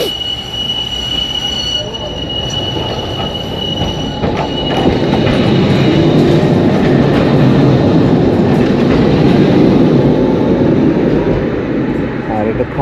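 A tram rolls past beneath a road flyover in Bulgaria, loud and close, with a sustained metallic wheel squeal over a dense grinding rumble that swells as it nears, while someone talks over it.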